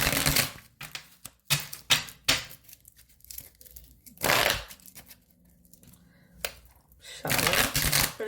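Bursts of riffling and flapping cards, several quick shuffles in a row close up, separated by short pauses.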